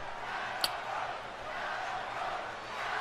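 Steady arena crowd roar from the WWE 2K20 wrestling game, a broad continuous wash of cheering at moderate level with one sharp click partway through.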